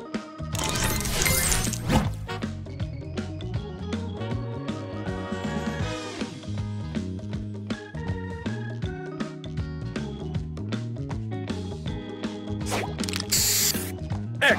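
Spray booster effect in the Match Masters puzzle game: a loud hissing spray burst near the start, then mechanical clicks and sparkly chimes layered over steady tonal game music.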